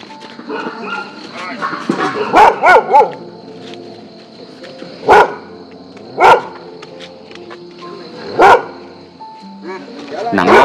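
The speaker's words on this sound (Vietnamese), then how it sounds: "Chó sủa luôn." A dog barks repeatedly at night at a rural farm while a vehicle is stuck, loud sharp barks recurring every couple of seconds among people talking nearby.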